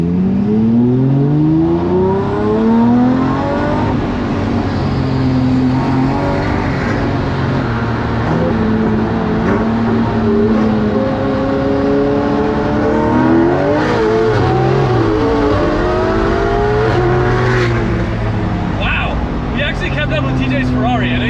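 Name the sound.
Lamborghini Murcielago racing a twin turbo Ferrari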